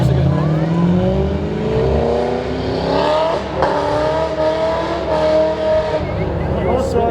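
A Nissan 350Z in Forza revs its engine with wavering throttle, rising and falling in loud, continuous pitch sweeps with some tire noise at close range.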